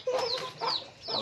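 Chickens clucking up close in short repeated bursts, a few calls with rising squawky tones, no talking.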